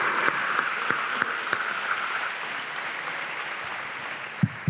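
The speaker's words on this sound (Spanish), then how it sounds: "Vale un aplauso" An audience at a medical congress in Argentina claps steadily for several seconds, the applause gradually thinning out toward the end.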